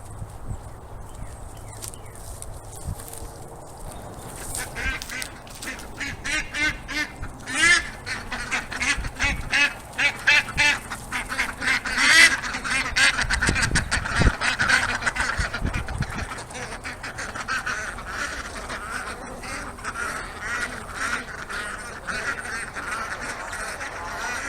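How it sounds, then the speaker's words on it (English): Ducks turned loose in a garden corn patch, busily feeding, with dense bursts of quacking and honking mixed with scuffling and pecking sounds, fairly close and continuous throughout. "While the ducks are busy having a nice snack"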